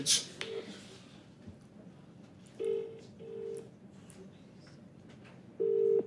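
A phone call placed on speakerphone in front of a stand-up comedy crowd, with short tonal ring or dial pulses sounding at intervals over low room murmur.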